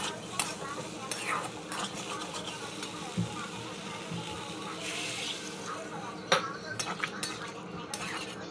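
Curry with nigella seeds, green chili and tomato frying in a pan, with a steady sizzle under frequent close clinks and scrapes of a stirring utensil against the metal.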